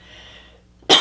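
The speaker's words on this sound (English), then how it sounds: "I was fine until I started doing readings and started coughing." A single short cough bursts out at the very end after a faint, quiet stretch.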